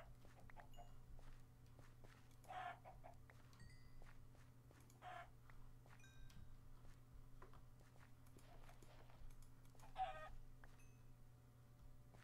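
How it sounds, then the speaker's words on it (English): Chickens clucking on gravel in a Minecraft-style video game, scattered short clucks at intervals over a steady low background hum. "chickens hanging out in the gravel"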